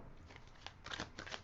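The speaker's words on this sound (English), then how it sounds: "We're going to put one more shuffle and rifle on the deck" Short bursts of papery riffling and clicks as a deck of tarot cards is shuffled nearby, two quick flurries with a softer one before them.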